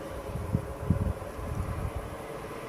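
Wind blows outdoors, buffeting the microphone with steady low rumble and irregular gusty thumps over about three seconds, no voices heard.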